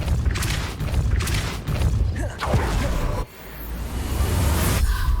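Spell casting in Hogwarts Legacy, a Depulso repelling charm amid dense game effects: loud whooshing bursts and booming impacts over a continuous roar, with a sharp drop and swell near the end.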